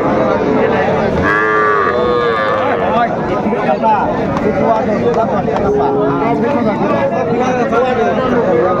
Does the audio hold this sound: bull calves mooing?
yes